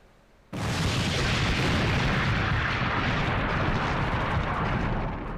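A heavy artillery blast erupts suddenly after a short quiet in the war in Ukraine, then rolls on as a loud, sustained rumbling roar that slowly fades.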